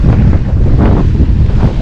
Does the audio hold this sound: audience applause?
no